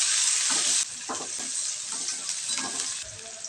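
Onions sizzle and spit in hot oil for a meat curry, a loud steady frying hiss with light scraping stirs, easing slightly after the first second.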